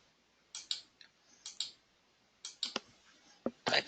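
Typing a part number into an inventory search on a computer keyboard: short clusters of crisp keystrokes in uneven bursts, close and quiet with brief gaps.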